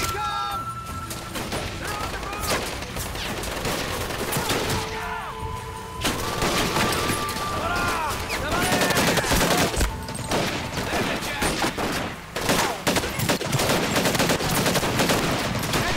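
Sustained gunfire in the video game Medal of Honor Pacific Assault during a battle near Guadalcanal, with dense machine-gun bursts, crashes and booms running continuously under shouted voices.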